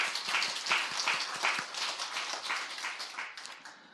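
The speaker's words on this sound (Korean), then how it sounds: "다 같이 하나님께 영광의 박수 한번 돌리겠습니다" A church congregation at a Sunday worship service claps together, a brisk room-filling burst of many hands that gradually thins and fades toward the end.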